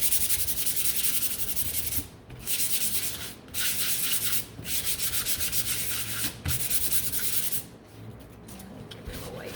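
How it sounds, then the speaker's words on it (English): Sandpaper rubs over a painted wooden snowman figure in repeated close, scratchy strokes, broken by several brief pauses. "give him a sand"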